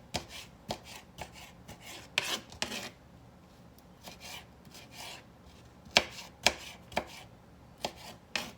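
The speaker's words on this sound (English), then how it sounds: "I'm going to cut those up in little bitty dices." Knife chopping red and yellow sweet peppers into small dice on a cutting board, a run of sharp close taps in uneven bursts with brief pauses, heard alone without talk.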